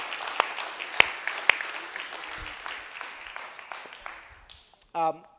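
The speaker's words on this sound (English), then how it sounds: "Should we clap for that?" A church congregation claps on a Saturday night, a dense broadband patter that slowly thins out over several seconds before a brief voice cuts in at the end.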